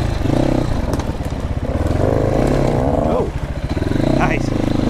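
A GPX FSE300R or TSE250R motorcycle ridden on a grass track, its single engine droning loud and close with a throbbing pulse and shifting pitch throughout, no clear speech over it.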